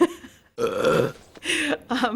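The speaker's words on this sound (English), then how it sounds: "she just let out this fraternity house burp, and it was great" A woman lets out a loud, drawn-out belch in several gravelly bursts after drinking a can of soda pop.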